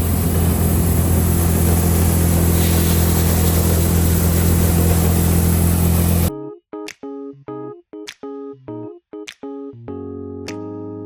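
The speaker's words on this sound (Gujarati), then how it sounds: "ઘઉંનું ભરેલું ટ્રેક્ટર છે" A tractor loaded with wheat rumbles home from the farm, its loud steady engine drone filling the first six seconds before cutting away to a series of short sharp tonal bursts.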